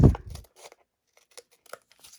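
Scissors snip through paper while trimming part of a handmade shaker card, a close crisp cut at the start followed by a few faint rustles and small clicks in near silence.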